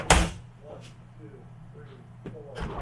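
A heavy soundproof door at Blackbird Studio opens with a sharp, loud clunk at the start. Quiet room tone follows, with faint distant voices and a softer knock near the end.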